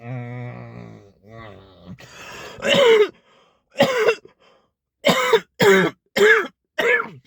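A man's harsh, raspy coughing fit, several loud separate bursts close to the microphone with brief gaps between them, after some muffled vocal sounds at the start.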